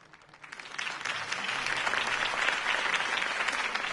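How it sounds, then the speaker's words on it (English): A large crowd in the Batman Telltale video game breaks into applause that swells quickly and holds as a steady, loud wash of clapping. "could have heard that applause"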